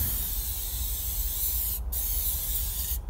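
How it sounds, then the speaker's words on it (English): Cover All car detailing spray comes out in a sharp, loud hiss from the nozzle, continuous with two brief breaks where the spraying stops, up close and with no talking. "This stuff, you just have to spray it on."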